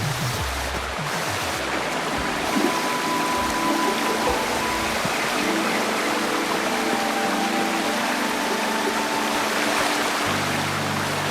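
Steady broadband rush of a waterfall in the video game Wuthering Waves, a constant loud wash of falling water with low tonal game music underneath and no voices.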